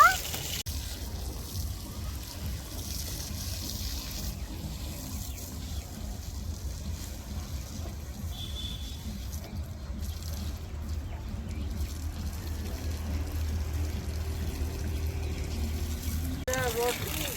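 Water gushes from a running motor pump while a plot is watered in a Bangladeshi village, a steady, close broadband rush with a low churning undertone that runs throughout, with voices faintly present at times.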